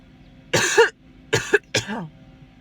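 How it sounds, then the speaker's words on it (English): Three harsh coughs in quick succession, close and loud, separated by short pauses in an otherwise quiet space. "Coughing spell."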